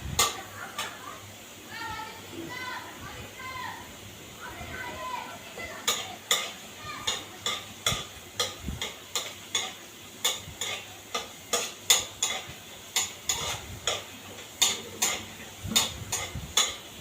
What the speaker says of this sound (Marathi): थोडे शेंगदाणे आणि लसूण भाजायलाच वेळ लागतो, कारण मी एकदम बारीक गॅसवर भाजलेलं आहे